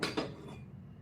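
A steel plate of freshly pressed rice-flour chakli is set down on a kitchen counter, giving two quick metallic clinks close by, then a low room hum with no voices.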